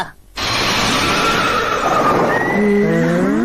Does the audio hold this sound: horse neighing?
yes